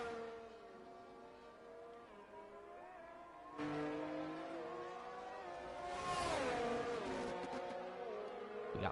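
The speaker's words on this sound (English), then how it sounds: "We got Martin on a flying lap in the Ferrari" A Ferrari race car screams through a flying lap of the Austrian Grand Prix circuit in a racing sim, its engine whine climbing and falling in pitch through gear changes, loud and continuous.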